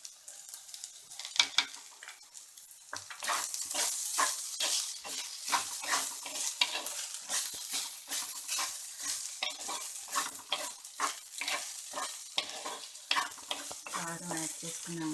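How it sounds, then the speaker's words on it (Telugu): Sliced okra frying in a pan for bendakaya fry, stirred steadily with a utensil that scrapes and clatters against the metal over a continuous close sizzle, with no talking. "సిమ్లో పెట్టి ఒక 5 మినిట్స్ వేగనిద్దాము"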